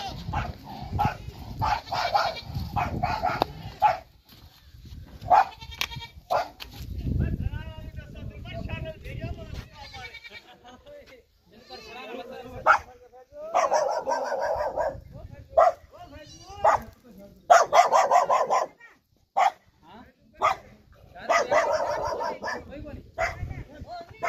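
A sniffer dog barks and yips in sharp bursts, sometimes whimpering, close by, while people talk around it throughout.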